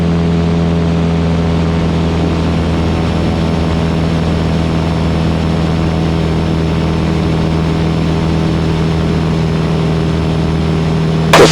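Light aircraft engine throttled back to 2400 RPM in flight after days of high wind and icing, a loud, steady droning hum with a constant propeller tone filling the cabin, unbroken throughout.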